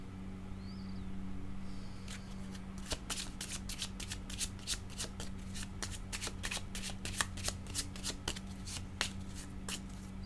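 A deck of cards is shuffled close by: a quick, crisp run of riffling flicks and snaps, starting after a short quiet moment and continuing steadily over a faint background hum.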